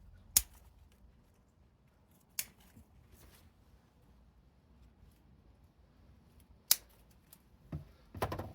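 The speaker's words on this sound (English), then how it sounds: "let's just go in, cut everything right back" Bonsai cutters snipping back the overgrown primary branches of a Chinese elm, giving a few sharp, separate clicks spaced seconds apart over quiet room tone, close and crisp.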